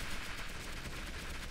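Rocket launcher fired in the Roblox game Arsenal, a faint burst of rapid, rattling gunfire-like blasts that lasts the whole short moment without any talk.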